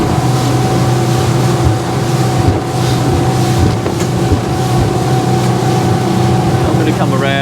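Highfield Patrol 860 RIB motorboat running at about 20 knots through choppy water off Hamble Point, a northerly wind against an incoming tide; a loud, steady engine drone with constant wind buffeting over the hull noise.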